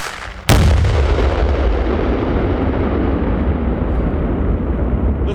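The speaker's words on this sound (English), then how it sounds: "We're about to set it off, and so it bonds the two wires. Make a big bang." Implosive sleeve splice detonating on a power line conductor in Alaska, one sudden loud blast followed by a long rolling echo that rumbles and slowly fades, with no speech.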